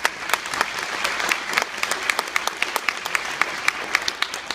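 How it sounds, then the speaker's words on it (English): At a high school graduation ceremony the audience gives a round of applause, and sharp individual claps stand out crisply from the massed clapping behind them as it carries on steadily for several seconds. "Give yourself a round of applause"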